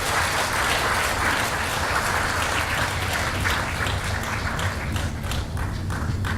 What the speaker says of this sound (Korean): 큰 박수로 환영해 주시길 부탁드리겠습니다